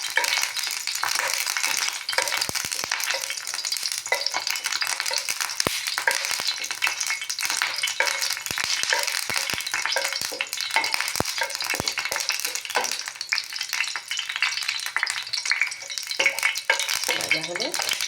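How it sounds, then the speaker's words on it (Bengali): Dry red chillies fry in hot oil with a continuous crackling sizzle, dotted with sharp pops and light scraping from stirring, close and steady throughout. "শুকনো লঙ্কাগুলো একটু ভাজবো।"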